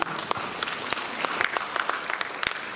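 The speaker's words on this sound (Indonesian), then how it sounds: "tepuk tangan" A seminar audience breaks into applause, steady crowded clapping with sharp individual claps standing out and holding at a fairly loud level throughout.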